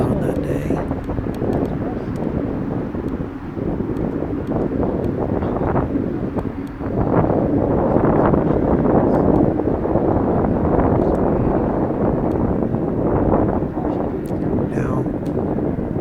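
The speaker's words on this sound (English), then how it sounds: "certainly there was a fair amount of wind on that day" Strong wind roars across the microphone during a bike ride in Forest Park, a loud, continuous buffeting rush with gusty swells that fills the whole stretch.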